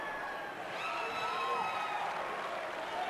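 Crowd noise from spectators at a high school boys' basketball quarterfinal in the Coliseum, a steady murmur and light applause with some cheering, fairly distant, with whistle-like tones rising above it.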